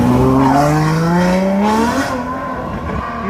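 A Ferrari 812 with its V12 engine pulls away on a street in Cannes, its rising engine note sweeping upward through a few gear changes before fading as it moves off.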